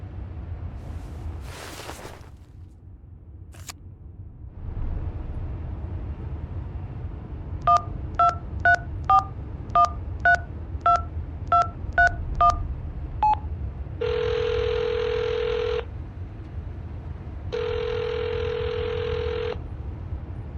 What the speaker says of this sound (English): Dial the number.